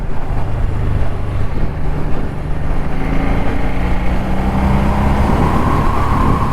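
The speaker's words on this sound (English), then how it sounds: "The exhaust on this have got a lovely deep rumble." Deep, steady exhaust rumble from an original-exhaust 2013 Suzuki C1500T Intruder cruiser motorcycle, heard continuously on the move with wind buffeting, a low throbbing drone that stays loud and near throughout.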